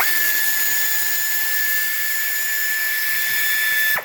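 A power tool runs steadily on bolts at the radiator of a 2020 BMW S1000RR motorcycle, a loud, close, high-pitched whine held for about four seconds before it cuts off abruptly.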